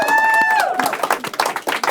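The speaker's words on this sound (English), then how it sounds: "So a round of applause." A studio audience claps after a live music performance, a short burst of scattered close hand claps that follows a brief sung or spoken note at the start.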